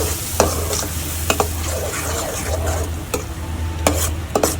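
Gravy being stirred into a sweet corn curry in a pan, with loud spoon scrapes and knocks recurring irregularly over a steady sizzle, no voices.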